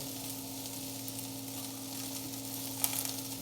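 Onion frying in a pan alongside green chili and garlic, giving a constant close sizzle with a faint clatter near the end, no talking.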